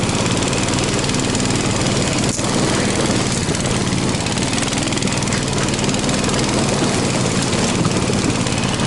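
A Russian motorized towing-dog snowmobile engine, one that stalls at idle, runs loud and close with a constant rough, buzzing drone that holds steady at high throttle throughout, with no pauses.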